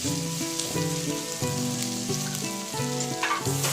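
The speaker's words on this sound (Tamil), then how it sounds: "இப்போ இடித்து வச்ச இஞ்சி பூண்டையும் அதில் போட்டுடலாம். அதுவும் நல்லா வதக்கிக்கலாம், பச்சை வாசம் போகிற வரைக்கும்." Crushed ginger and garlic sauté in hot oil in a pan for a mutton liver masala, giving a steady close sizzle and crackle with music playing underneath throughout.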